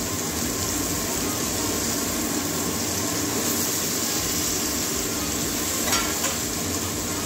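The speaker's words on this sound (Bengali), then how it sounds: "এবার আলু বেগুনটা ভেজে নেব।" Potatoes and eggplant fry in a pan for a Bengali gram-greens dish, giving a steady, dense sizzle that runs unbroken from start to finish at close range, with a few faint clinks partway through.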